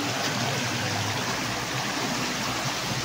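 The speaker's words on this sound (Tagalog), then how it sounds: "Ilog yan." A river in Bicol flowing steadily, a continuous broadband wash of running water heard close and fairly loud, with no voices or breaks.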